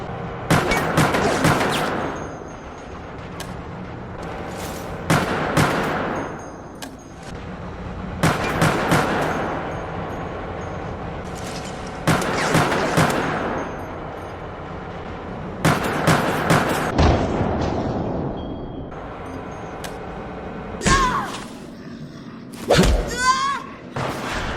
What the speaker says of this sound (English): let's test the UBCS standard issue handgun out